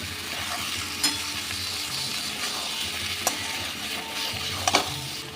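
Mutton with vinegar-marinated prawns sizzles steadily in a pan, a dense, even frying hiss with a few sharp clicks as a spoon stirs the pieces.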